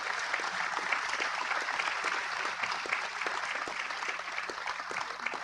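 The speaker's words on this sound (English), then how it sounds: "we should give her a huge round of applause" A large audience at an opening address for a global biodiversity alliance applauds steadily, dense sustained clapping filling the hall at an even level from start to finish with no speech over it.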